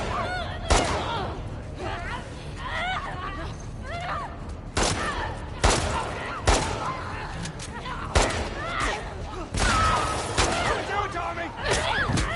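Gunfire rings out in The Last of Us remake during a fight at Jackson. Loud single shots crack every second or so at close range while people shout and talk over the shooting.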